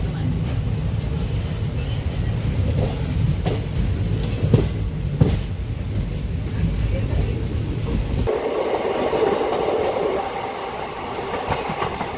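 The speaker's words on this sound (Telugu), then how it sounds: "సో మన ట్రైన్ యొక్క స్పీడ్ చూడండి" A superfast express train from Charlapalli to Chennai Central runs fast along the tracks with a loud continuous rumble and rhythmic clatter, then the sound changes abruptly as if passing into open air.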